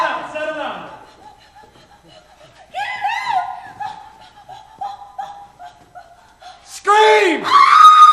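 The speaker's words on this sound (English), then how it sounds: "Scream!" Loud shrill screams burst out at the start and again near the end of a comedic broadcast sketch, with quieter voices and tonal vocal sounds in between.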